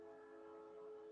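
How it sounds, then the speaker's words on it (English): A freight train carrying Toyota cars passes, heard as a sustained tonal horn-like drone with steady rumble beneath, moderately faint and continuous. "Oh, there's the train."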